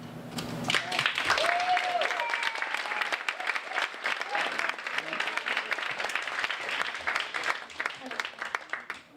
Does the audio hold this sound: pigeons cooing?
no